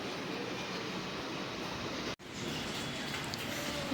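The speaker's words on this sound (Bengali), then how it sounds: "আজকে বাইরে কিন্তু বিশ্ব বিবর্ষ বৃষ্টি চলো তো সেটাও তোমাদেরকে দেখিয়ে দিই" Rain falling outdoors on a wet day, a steady, even hiss with one brief dropout midway.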